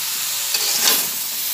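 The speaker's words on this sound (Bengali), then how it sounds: "আবার সব দিয়ে ভেজে নিচ্ছি।" Vegetables frying in a pan for a Bengali vegetarian pachon, stirred as they sizzle; a steady close hiss with brief scraping swells of stirring, no voices.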